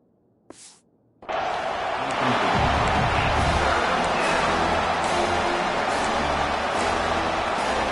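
Stadium crowd at a football game roaring loudly and steadily after a brief quiet start, a dense sustained wall of noise building on a third down.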